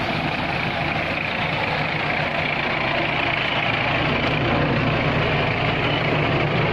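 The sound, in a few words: tractor with disc plough plowing a rice field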